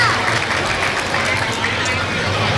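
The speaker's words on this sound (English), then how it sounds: "Let's give them a round of applause." A crowd at the opening ceremonies of an outdoor small-town festival applauds in a steady, continuous wash of clapping, with murmuring voices and general outdoor bustle mixed underneath.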